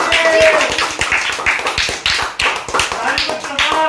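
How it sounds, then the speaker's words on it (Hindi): Children in a tuition class clap rapidly and unevenly for a few seconds after a math tables competition, close and bright, with voices briefly audible beneath the applause. "तालियां बजाओ सबके"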